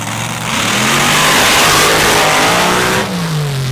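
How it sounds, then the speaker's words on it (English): A drag racing car's engine roars at full throttle during a record-attempt night run in Mississippi, a loud sustained revving note that climbs in pitch, then drops abruptly near the end as the driver lifts. "They've gotten the car refired. They are going to let him take another shot at it"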